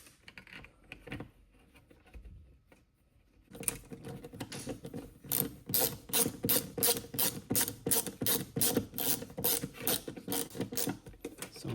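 Screws driven into the top of an Amazon thermostat's mounting plate during a 2025 installation, a close, steady run of rapid ratcheting clicks that starts after a quiet pause and continues alone.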